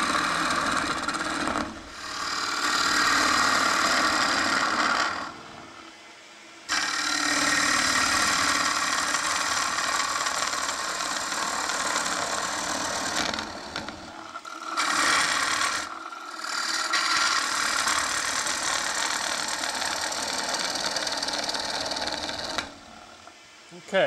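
A wood lathe turning a bowl as a gouge cuts, giving a loud sustained rasping shear in long passes with brief pauses between cuts, close to the microphone.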